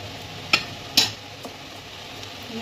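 A spoon stirs attar through prawn pulao in a pot, giving two distinct scraping clinks near the start over a low, quiet background, then softer faint movement, close by with no talk.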